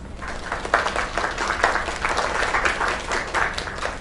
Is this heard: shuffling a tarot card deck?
no